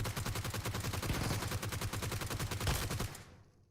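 Rapid, dense video-game gunfire from a PUBG Mobile-style shooter, rattling in steady bursts for about three seconds before cutting off into a quiet tail.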